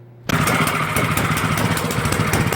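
An Ariens Sno Tek snow thrower engine starts abruptly after a moment of quiet and keeps running loudly on choke, a close, steady, rapid putter.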